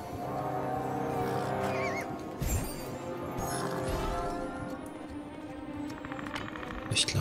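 A horse neighs and whinnies over a dense, continuous Minecraft Legends game soundscape, with a few sharp bursts along the way.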